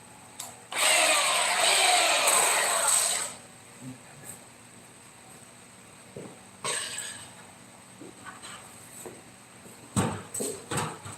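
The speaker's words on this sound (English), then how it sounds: "Now we'll use a dust sander. Clean up the edges a little bit." A power sander cleaning up the edges of a wooden facade piece runs in one loud close burst of about two and a half seconds, followed by quieter handling knocks and clatter.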